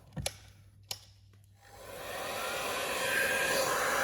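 A steady blowing hiss of a heat gun shrinking heat shrink tubing over an LED strip rises and holds at high volume after a couple of sharp clicks near the start.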